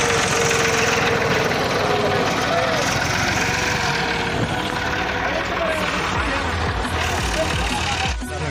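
A tractor engine runs steadily up close, a rough rumbling drone throughout with a clattering mechanical edge.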